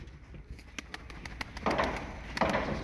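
A domestic pigeon coos with soft, repeated low calls, close by, along with a few sharp clicks and rustles in a quiet setting.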